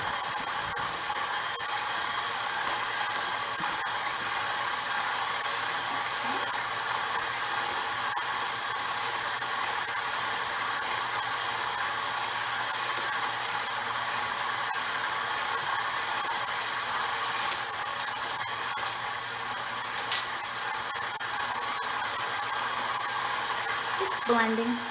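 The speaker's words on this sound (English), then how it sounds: "Blending." An electric mixer blends butter and sugar for muffins with a steady, high-pitched whirring drone that runs unbroken and loud for the whole stretch, with faint clinks toward the end.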